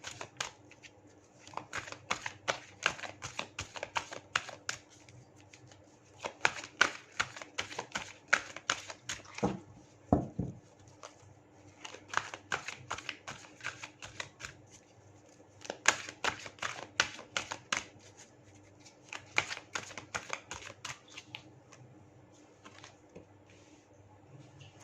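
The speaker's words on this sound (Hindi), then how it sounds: "मैं आपके लिए कार्ड शफल कर रही हूँ" Tarot cards are shuffled by hand close up in repeated bursts of rapid riffling and flicking, each lasting a couple of seconds and separated by short pauses, with faint background noise.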